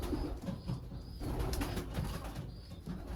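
Young racing pigeons in a loft give soft, low cooing amid a dense background murmur of the flock, with occasional faint wing rustles and no talk.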